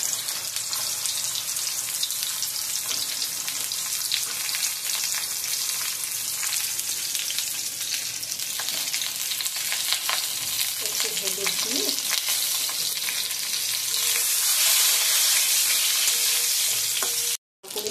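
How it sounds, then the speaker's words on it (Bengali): Loud, continuous sizzling of pointed gourd frying in hot mustard oil, with occasional stirring scrapes; a voice speaks briefly near the middle. "এই পটলগুলো সর্ষের তেলে ভেজে নিতে হবে"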